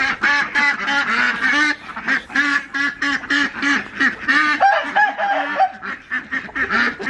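Ducks quacking inside a barn, loud and close, a rapid run of repeated honking quacks from several birds overlapping, with only brief gaps.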